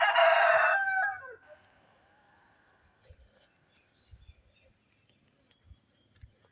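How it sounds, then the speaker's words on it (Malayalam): A wild jungle fowl crows once, loud and close, a single harmonic call lasting about a second and trailing off. Only faint low thumps and quiet outdoor background follow. "ഇതാണ് കാട്ടുകോഴി"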